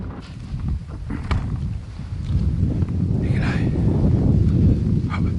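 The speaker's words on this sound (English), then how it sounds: "it's a bit windy" Steady wind rumbles and buffets the microphone throughout, a low roaring gust noise with occasional faint knocks, no voices, outdoors in the Australian bush.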